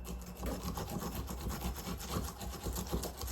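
Peeled root rubbed steadily across a spiky grater, making a continuous close, soft rasping scrape with a faintly rhythmic back-and-forth texture.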